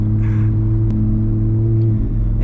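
An Audi RS3 engine rumbles loudly and steadily while driving through a winter blizzard in snow, a close, continuous low drone with a brief sharp blip partway through and no talking.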